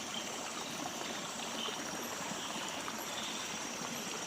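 Stream water flows with a constant broadband rush at an even, moderate level, close to the listener and with no voices.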